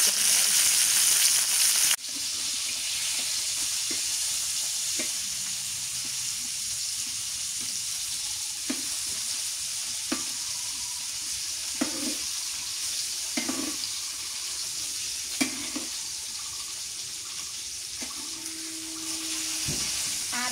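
Fish frying in a pan gives a steady close sizzle that runs throughout, with scattered clinks and scrapes of stirring, a few short watery splashes, and a brief rattle near the end.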